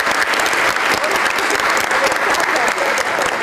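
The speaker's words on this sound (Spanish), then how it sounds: "un aplauso para todos ustedes," Audience applause at a Spanish-language public health conference session: dense, steady clapping from a large crowd that stays loud and even for the whole span, with no pause.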